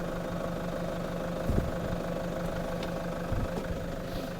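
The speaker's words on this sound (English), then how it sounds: "Murray will have to reverse up a little bit" A car idles and creeps slowly in reverse along a narrow Lake District lane, a steady low engine drone with faint thumps, no voices.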